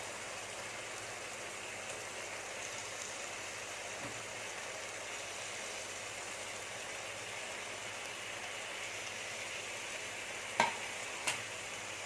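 Egg moily curry with potatoes is stirred in a pan over a steady, soft sizzle, with a couple of sharp spoon knocks against the pan near the end and no voices.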